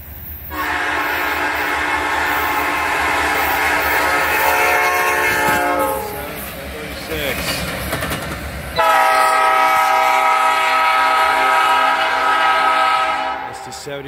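An SD70 diesel locomotive blasts its horn loudly and repeatedly as it rumbles past close by, with a brief break in the horn before it resumes.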